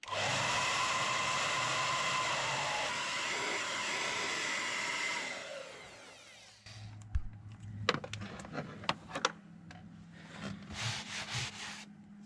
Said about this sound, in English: we're going to use the missus's hair dryer